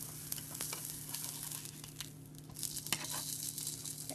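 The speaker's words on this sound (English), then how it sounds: "so I'm going to go ahead and flip my sausage" Sausages sizzle steadily in a hot pan right after being flipped. The frying hiss is loud and close, with brief crackles and spatters, and no one talks.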